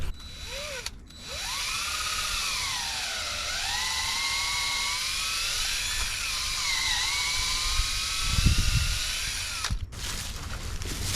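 A power drill bores a tap hole into a maple tree outdoors, its motor whining loud and close with pitch rising and falling as the bit works in and out of the wood, with a brief thump near the end and no talk.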